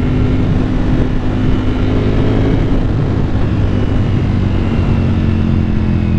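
Ducati Panigale V4 S motorcycle engine at sustained high revs while riding in race mode, a loud, steady, dense roar with strong low harmonics and wind rush, no speech.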